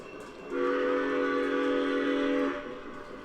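A small Lionel F-19 toy steam train whistle sounds one sustained, bright multi-tone blast lasting about two seconds over quiet background noise.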